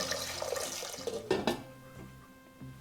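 Water runs and splashes into a 3-litre metal pot over half a large onion, with a couple of sharper clinks midway, then settles to a quieter trickle.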